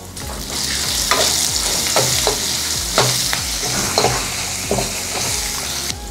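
Avakaya mango pickle goes into a hot frying pan and is stirred with a spoon, giving a continuous sizzle broken by repeated sharp scraping strokes against the pan, close and clear, with no talking.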